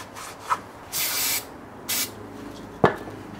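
A microfiber cloth soaked in grease and wax remover wipes across a car's rear view mirror on a Mazda RX3, giving a few close, soft swishing rubs and a brief squeak.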